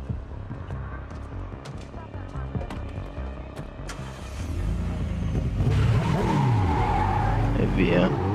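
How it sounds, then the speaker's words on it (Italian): A car in Need for Speed Heat with engine running, then a burnout: a steady engine drone builds into louder revving with rising tire squeal in the final seconds, close and continuous, with talk mixed in. "l'ho accesa sgommatina"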